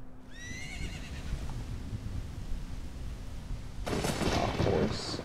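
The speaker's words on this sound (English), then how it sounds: "A horse?" A horse in the Ocarina of Time video game neighs loudly near the start with a descending whinny, followed by a burst of thunder-like rumbling toward the end.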